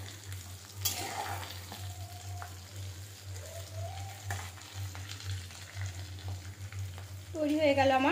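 Crispy potato rolls fry in hot oil with a steady, close, even sizzle. They are turned partway through the frying, and a few utensil clinks and a short sharp tone sound over the crackling.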